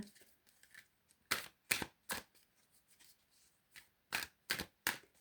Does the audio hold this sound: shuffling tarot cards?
yes